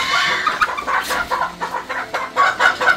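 Several free-range village chickens cluck nearby in short, choppy bursts, a busy, uneven chatter from the flock.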